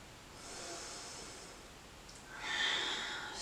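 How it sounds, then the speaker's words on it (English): A soft, breathy exhale through the nose during a yoga hip stretch, faint and close, followed by a slightly stronger airy breath. "Long exhale."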